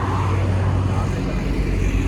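A car passes on a bypass road, its steady, loud, close engine and road rumble filling the short stretch.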